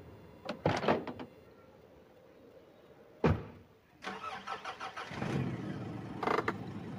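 Car engine cranking and catching to life in a horror video game, a short sharp burst midway followed by a rising rumble, with scattered clicks and door-like thumps around it; fairly quiet overall.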